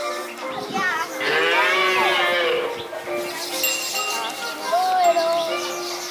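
A water buffalo at a Nakhon Pathom cafe farm gives a long, close, mooing bellow, followed by quieter animal calls and light jingling. People speak nearby in Thai.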